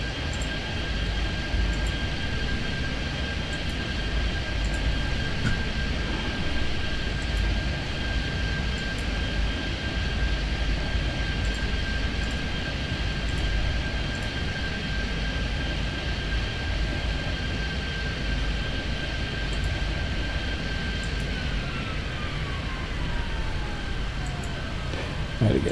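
Airplanes taxiing at an airport in the game Airport Madness 3D: a steady, loud jet-engine drone with a sustained high whine throughout, and one tone gliding downward near the end, no talk.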